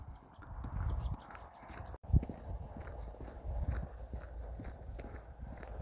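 A horse's hooves clip-clop at a walking pace, faint and somewhat distant, with steady irregular thuds over low outdoor rumble.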